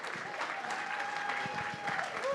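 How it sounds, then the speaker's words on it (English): Audience applause at a culture conference awards showcase, steady dense clapping held throughout at moderate distance, with a faint tonal hum running beneath. "So everybody, round of applause for the P3 MediaWorks team."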